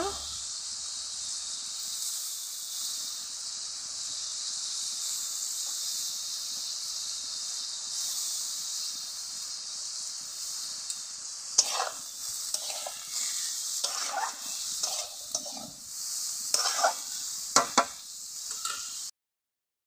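A fish sizzles in a hot pan of oil while a home curry is cooked, giving a steady frying hiss. Toward the end, scattered louder crackles and stirring clatter break through.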